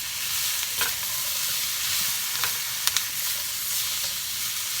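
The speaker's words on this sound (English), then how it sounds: "you need to stir fry this till it starts getting a little bit of colour on it" Food stir-fries in a hot pan with a loud continuous bright sizzle and hiss, broken by a few soft scrapes and taps of a utensil, no talking.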